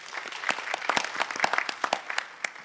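Warm applause from an audience at an evening school-history event in Charles County for the planning team: dense, continuous clapping of many hands, moderately loud and steady throughout, with scattered sharper claps standing out.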